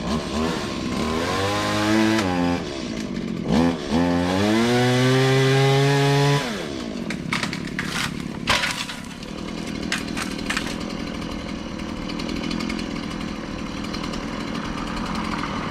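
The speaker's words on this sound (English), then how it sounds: "I don't use a chainsaw very much" A loud chainsaw revs and whines with rising and falling pitch, then settles into a rough, sputtering idle with scattered crackling.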